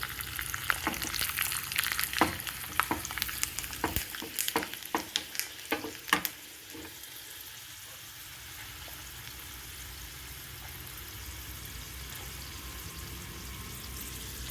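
Mustard seeds, cumin, chana dal, urad dal, dried red chilies and garlic tempering in hot oil, crackling with sharp pops and spatters at first, then settling into a steady, even sizzle.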